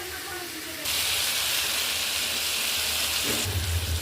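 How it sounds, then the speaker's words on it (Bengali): Spice paste and water hit a simmering ridge gourd and potato curry in a pan, bursting into a loud, steady sizzling hiss that holds for several seconds. "মশলাগুলো জলটাও দিয়ে দিলাম।"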